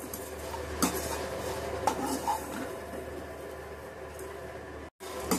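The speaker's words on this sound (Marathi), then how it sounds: "पोहा भाजून घेऊया" Dry poha, flattened rice with no oil, is stirred in a pan, giving faint scraping and rustling with a few sharper clinks of the spoon against the metal, plus one brief dropout near the end.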